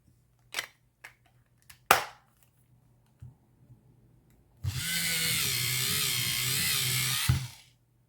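A small electric pencil sharpener grinds steadily for about three seconds as an Artisto colored pencil is sharpened, after a few faint clicks and taps.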